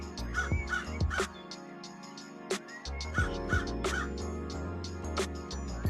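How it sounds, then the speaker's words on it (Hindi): A cartoon crow caws loudly and repeatedly in a Hindi children's story about birds. The harsh calls come in rhythmic bursts over a background music bed. "तभी कालू कौवा जोर जोर से चिल्लाते हुए लाडो के घोंसले के बाहर आ जाता है"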